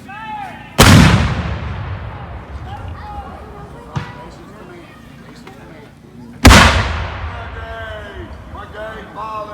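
Musket volleys from British infantry at a Battle of Camden reenactment: two loud, booming massed shots several seconds apart with long rolling echoes, a softer single report between them, and shouted commands in the background.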